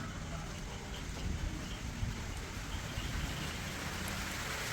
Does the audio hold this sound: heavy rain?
yes